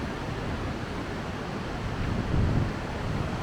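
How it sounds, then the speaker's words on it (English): Strong wind roars steadily outdoors, buffeting the microphone with a low rumble that swells into a gust near the end. "Now it's going to get windy and noisy out here"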